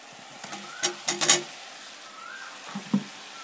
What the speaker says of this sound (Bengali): এখন আলুটা ছেড়ে দেব।